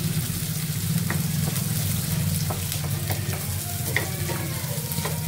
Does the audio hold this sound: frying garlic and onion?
yes